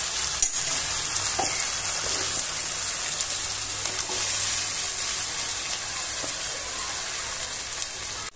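Masala is fried and stirred in a pan for a Konkani-style fish curry. A dense, steady sizzle with a bright hiss runs throughout, with small scraping stir sounds now and then, close and continuous and with no speech.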